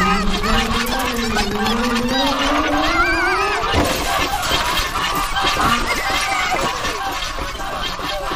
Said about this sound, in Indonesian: Angsa-angsa ni garang.